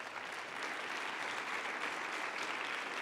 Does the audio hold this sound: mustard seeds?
no